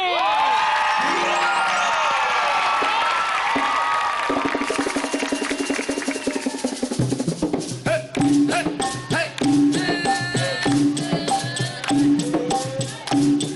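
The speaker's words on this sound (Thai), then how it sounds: "ขอเสียงปรบมือต้อนรับ" Audience applause and cheering welcome a guest onto the stage of a Thai variety TV show, a loud crowd roar of clapping and whoops that gives way to music partway through.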